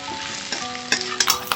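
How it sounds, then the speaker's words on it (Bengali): Carrot, onion and scrambled egg frying in a pan are stirred, a close sizzle broken by a few sharp scrapes and clacks of the utensil against the pan. "আবারও খুব ভালোভাবে মিশিয়ে নেড়ে নিতে হবে।"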